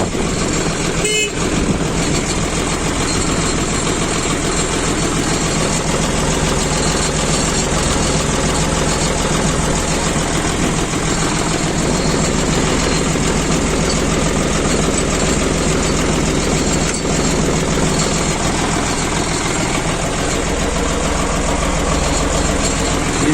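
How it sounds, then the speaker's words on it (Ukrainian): A small 2013 MTZ tractor engine idles steadily, a constant low rumbling chug that stays loud and unchanging throughout, with a brief horn-like toot early on. "Маленький, акуратний тракторчик."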